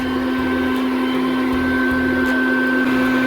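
A vacuum used to collect honey bees from a socket runs steadily with a loud, constant droning whine and no pauses, and no one speaks.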